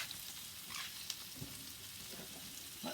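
Chilli coconut crab sizzles and spits in a hot pan, a constant soft crackling fry with small pops and clinks, fairly faint and with no voices.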